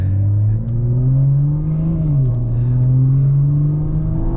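A BMW M340i with a big turbo engine rumbles loudly up close, its deep engine drone rising and dipping slightly in pitch as it is held and lightly revved, with no talking.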